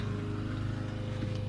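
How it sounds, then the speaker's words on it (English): A lawn mower runs somewhere nearby while grass is cut, giving a steady, unbroken engine drone that holds at an even level throughout, with no voices. "Sorry if you guys can hear the person cutting the grass."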